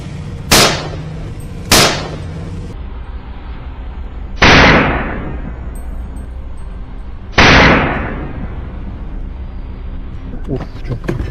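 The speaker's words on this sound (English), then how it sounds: "A decisive gunshot rings out the moment the wild boar emerges." Four sharp, loud gunshots ring out at a wild boar hunt on a hillside: two in quick succession, then two more spaced a few seconds apart. Each has a booming, decaying tail over quiet outdoor background.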